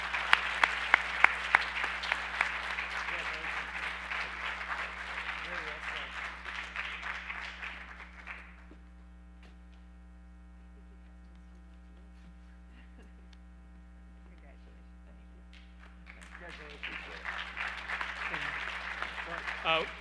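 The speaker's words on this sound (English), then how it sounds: "Let's give him a round of applause." An audience at a high school Top 5% ceremony applauds a teacher, with sustained clapping over a steady mains hum that fades to near silence and then swells into a second round of applause.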